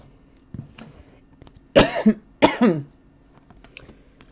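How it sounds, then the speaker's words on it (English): Two sharp, loud coughs ring out close by in quick succession, with faint rustling and quiet handling sounds before and after. "I did cough into my elbow there"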